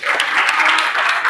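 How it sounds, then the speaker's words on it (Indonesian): A classroom group claps together during a lesson on Pascal's law, a short dense burst of applause, close and loud, with no talking over it. "Terima kasih tepuk tangan."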